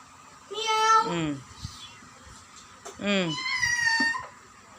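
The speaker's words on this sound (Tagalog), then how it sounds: "Narinig naman yung pusa sa labas eh." Two drawn-out meows from a cat outside, the first around one second and the second near three seconds, with quieter background noise between them.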